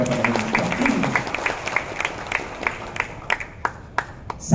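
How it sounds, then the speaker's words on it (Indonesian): Audience applause at a Bank Indonesia regional forum in the Ciayumajakuning area, a sustained crowd clapping that thins into scattered individual claps, moderately loud in a hall. "Tepuk tangannya paling meriah"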